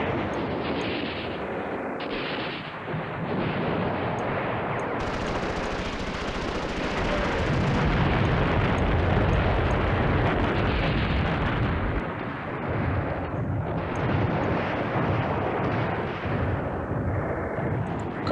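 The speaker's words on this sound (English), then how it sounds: "we've got an airstrike, so I need to keep dropping it on this lot over here" Airstrike explosions in the Command Ops 2 war game, a dense, continuous roar of blasts and rumbling gunfire-like bursts that swells in the middle and stays loud throughout.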